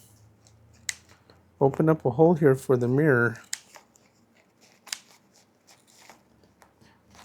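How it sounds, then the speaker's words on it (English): Scissors snip at tough sun visor upholstery fabric in a few quick, close crunching cuts, before and after a man's speech. "Can't even get the scissors through it."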